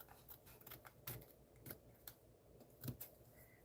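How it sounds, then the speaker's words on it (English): Scissors snip off excess paper in a journal, a series of quiet, crisp cuts at an uneven pace, close up and without talk. "so let me cut this excess"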